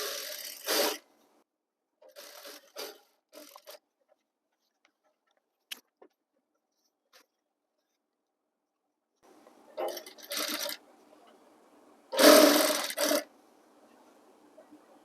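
A sewing machine stitches canvas onto school uniform trousers in short, separate runs of whirring, with long quiet pauses and small clicks between them and no talking.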